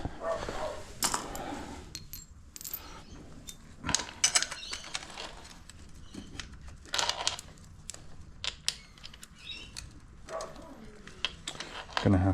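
Metallic clicks, rattles and small clanks come from hands-on work with a motorcycle chain master link, irregular and close, with someone talking intermittently over the handling.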